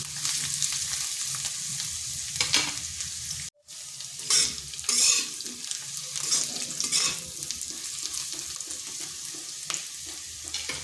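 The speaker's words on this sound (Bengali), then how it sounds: "আদাটাকেও একটু ভেজে নিচ্ছি। মিনিট 2 এইভাবে নাড়াচাড়া করে নিচ্ছি।" Ginger fries in a pan for a vegetarian ridge gourd and bori dish while being stirred, producing a steady sizzle with scraping spatula strokes and one brief silent break.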